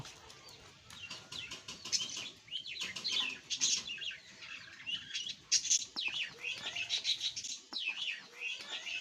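Ducklings chirp continuously in high, thin peeps close by, overlapping in busy bursts with short lulls and occasional soft rustling.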